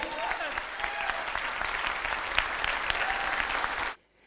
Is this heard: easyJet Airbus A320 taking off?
no